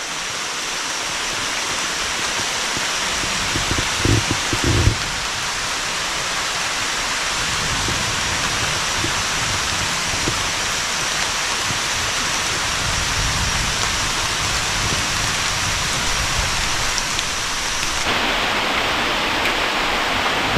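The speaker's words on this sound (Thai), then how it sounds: "ฝนมาตกฝนเช้าเลยที่ขึ้นไปทางนั้น" Steady rain falling in a forest, a dense even hiss across the whole stretch with occasional nearer drips and low rumbles, no voices.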